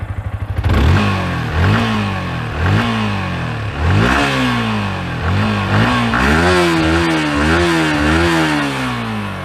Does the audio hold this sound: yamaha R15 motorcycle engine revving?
yes